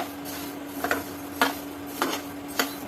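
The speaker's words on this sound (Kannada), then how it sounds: "ಈ ಥರ ಚೆನ್ನಾಗಿ ಹುರ್ಕೋಬೇಕು" Garam masala spices being dry-roasted in a pan, stirred with a spatula in a few scraping strokes about half a second apart, over a steady low stove hum.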